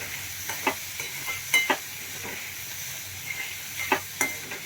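Dry chori (cowpea) curry cooking in a pan, a soft continuous sizzle punctuated by repeated spoon scrapes and taps in irregular bursts, close up with no talking.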